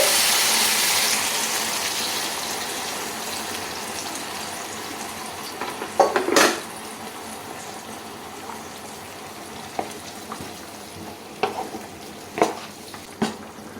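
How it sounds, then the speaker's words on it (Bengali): Lukewarm water poured into spiced curry masala in a pan for a cauliflower and paneer curry, a rushing hiss that fades into steady sizzling, with a few brief louder clatters of stirring near the end. "মোটামুটি মশলাটা কষানো হয়ে গেছে এবারে আমি দেব জল আমি ঈষদ উষ্ণ জল ব্যবহার করছি"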